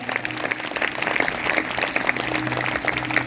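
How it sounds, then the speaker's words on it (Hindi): A church congregation at a Sunday service breaks into loud, steady applause, a dense wash of clapping that holds at even strength throughout with a faint low hum beneath it. "अगर आई है तो आपने जोरदार तालियां बजानी है।"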